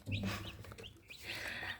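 Young Faverolles chicks peep in quick, high, thin bursts, close by and fairly faint, with a few short calls scattered over about two seconds.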